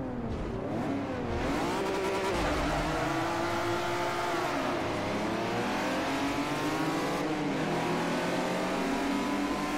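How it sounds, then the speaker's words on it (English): A car engine revs continuously in the racing video game Forza Motorsport 4, loud and close, pitch climbing and falling through gear changes over about ten seconds with faint tire noise underneath. "This is such a nice sounding engine."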